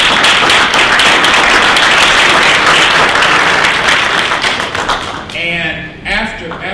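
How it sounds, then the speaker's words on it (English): An audience at a lobby day gathering applauds a speaker called to the front, loud dense clapping with some taps and thuds that slowly fades out as a voice begins talking near the end. "Give him a round of applause."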